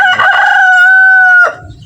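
A rooster lets out one loud, close crow, a sustained cock-a-doodle-doo that holds steady before dropping off abruptly.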